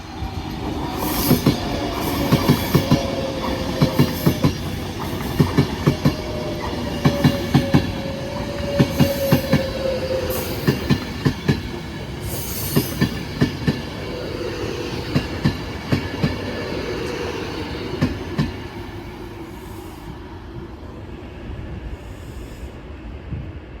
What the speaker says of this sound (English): Train now departing is a 390 going to Glasgow Central.